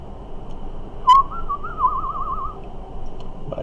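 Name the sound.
human whistling imitating birds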